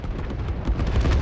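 Fireworks go off in the video game Satisfactory as a quick series of rumbling booms and pops, loud and close, with bursts recurring every fraction of a second.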